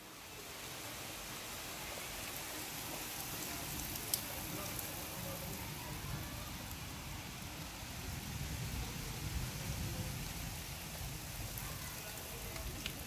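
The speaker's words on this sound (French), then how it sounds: "La pluie qui s'est renforcée tout d'un coup les mecs." Heavy rain pours during a distant thunderstorm, a steady, even wash of dense hiss that continues unbroken throughout, with only faint isolated ticks standing out.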